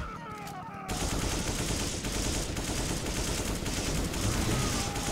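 Gunfire in Resident Evil 5, Night Terror story mod: dense rapid shots bursting in after a quieter second and continuing steadily to the end, close and loud, no talk.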